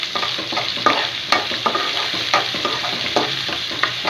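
Onion and curry leaves fry in a pan, a close, steady sizzle broken by frequent scraping and clicking strokes of a spoon stirring through, with no voices.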